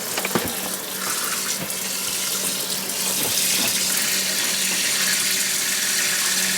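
Tap water runs steadily into a small sink in a camper van, a continuous close hiss and splash with no talking, lasting the whole stretch.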